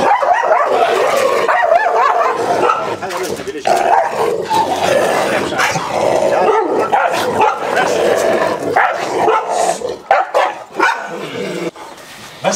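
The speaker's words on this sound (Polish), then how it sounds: "No nie fajnie jest naprawdę z tymi psami tutaj, kurczę." Several dogs bark, yip and whimper loudly and almost nonstop as they harass a hiker on a trail through a cedar forest in Lebanon, the noise close and dense, with a person's voice mixed in.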